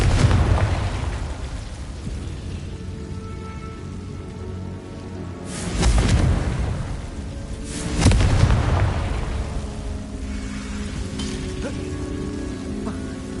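Confringo spell blasts in the video game Hogwarts Legacy land as two heavy booming bursts several seconds apart, rumbling over a constant rain-like wash of game ambience.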